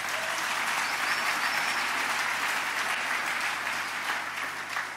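A congregation at a church service applauds in a sustained, dense wave of clapping that fills the room and carries on steadily for the full stretch, with no voices standing out.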